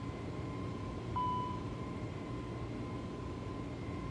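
An Airbus airliner in Microsoft Flight Simulator 2024 gives a steady low engine drone with a thin, constant tonal whine on top. The sound is faint and even throughout, with a brief swell partway through.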